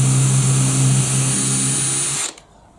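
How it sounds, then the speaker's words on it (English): A combi power drill whirs steadily at high speed for about two seconds while drilling a pilot hole, then cuts off abruptly into near silence. "A standard drill bit, you pop it in the chuck, you tighten it up, and you'd make a pilot."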